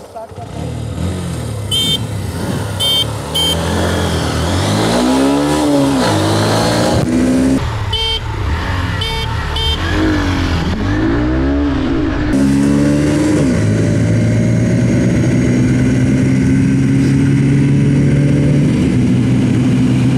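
A Honda SP 125 BS6 and a Hero Glamour Xtech BS6 motorcycle rev and accelerate hard in a top-end drag race, their engine notes rising and falling through gear changes, loud and close, under continuous talk.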